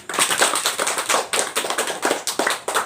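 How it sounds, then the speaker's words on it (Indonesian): A class of students claps hands together during a school lesson in a missiology class at SMTK Setia Merauke, producing a dense run of sharp, rhythmic claps that sound close and fairly loud, with no talking. "tepuk tangan untuk kita semua"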